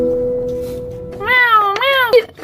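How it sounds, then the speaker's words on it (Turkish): A cartoon cat lets out two loud, close, wavering meows in quick succession, following a steady tonal hum. "Git git buradan pis kedi."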